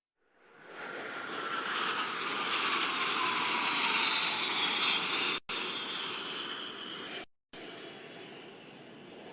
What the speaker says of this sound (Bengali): 5টি K-8W বিমানের সমন্বয়ে গঠিত একটি 5-শিপার অ্যারোহেড ফরমেশন চমৎকার দক্ষতার সাথে প্রদর্শন করছে